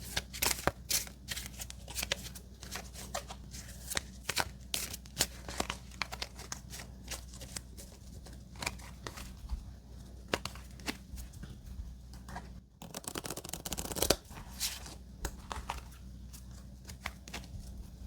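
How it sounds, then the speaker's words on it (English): Playing cards shuffled repeatedly for a game of Forty Thieves solitaire, a long run of crisp riffling flutters and soft slaps, quiet and close, with a brief louder burst near the end. "Let's give it one more quick shuffle."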